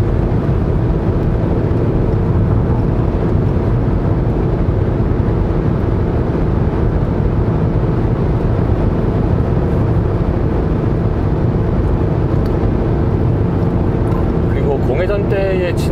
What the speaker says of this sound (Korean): 이 차는 그 엔진 소리가 바람 소리와 거의 반반이거나 조금 더 크게 들리거나